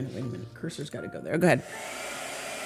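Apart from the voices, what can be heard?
blow dryer running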